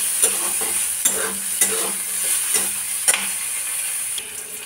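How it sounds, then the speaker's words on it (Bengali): Vegetables stir-frying in oil in a pan for pasta, with a steady loud sizzle broken by regular scraping strokes of the spatula, close up and with no talk. "এই দেখো এগুলো বেশ লাল লাল হয়ে ভাজা হয়ে গেছে"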